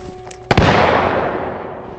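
A single sharp rubber-bullet gunshot in the Batman: Arkham Shadow video game, one loud crack followed by a long, fading echoing tail, with no talk.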